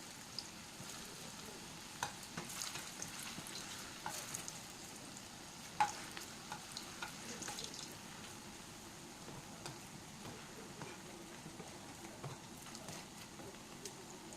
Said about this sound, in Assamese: আৰু এতিয়া মই ইয়াত ভাজি ল'ম